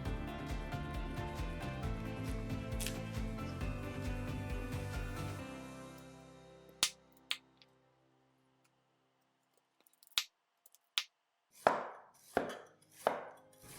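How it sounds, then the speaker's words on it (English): A knife shreds a halved, cored cabbage into thin strips on a cutting board: a rapid, steady run of close chopping taps for about six seconds, then a pause and a few isolated louder knocks and cuts, with no talking. "shred the cabbage into tiny strips"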